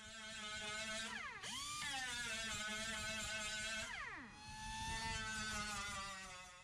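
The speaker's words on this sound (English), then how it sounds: "I'm just grinding down the spot welds around the wheelhouse, the wheel arch" A power grinder grinds down spot welds on a Chevrolet Silverado wheelhouse, a loud, close high-pitched whine that drops in pitch under load twice, then rises again.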